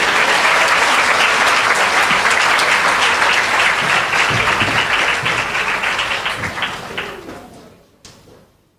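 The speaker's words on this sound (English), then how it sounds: "I think they can get another round of applause" An awards ceremony audience bursts into loud, dense applause that holds steady before gradually tapering off and ending in a few last scattered claps.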